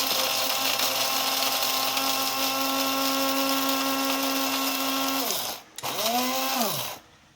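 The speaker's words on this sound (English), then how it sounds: "I'm going to grind the beans really good." An electric grinder whirs steadily through coffee beans at close range, then spins down, briefly restarts with a rising and falling whine, and cuts off.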